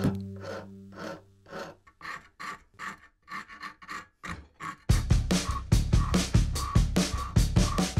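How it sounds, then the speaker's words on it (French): Repeated rasp strokes scrape across wooden pieces cut out with a hole saw, deburring them in a steady rhythm, softer at first, then louder and faster in the second half, with no voices. "Je détache les pièces avec la scie cloche et fais un ébavurage à la râpe."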